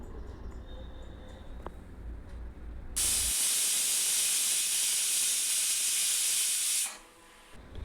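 A loud, sustained hiss of steam bursts from a pressure cooker whistling while cooking, holding steady for several seconds before cutting off, after a quieter stretch of kitchen clatter.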